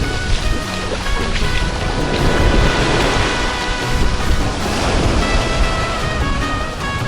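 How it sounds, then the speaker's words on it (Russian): Strong ocean surf breaks on a beach in Cuba, a continuous loud roar of crashing, hissing waves with wind, heard close with no voices. "Мы здесь уже 4-й день, и вот такой сильный прибой первый раз"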